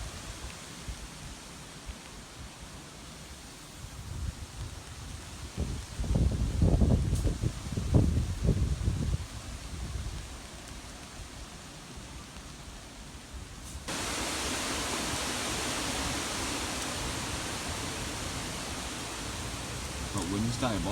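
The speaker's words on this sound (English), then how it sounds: "That wind's diabolical." Strong wind buffets a riverside camp in a broad, roaring rush with gusty low rumbles that swell in the middle and a steadier hiss later; a voice speaks briefly.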